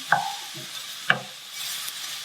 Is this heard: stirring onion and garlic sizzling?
yes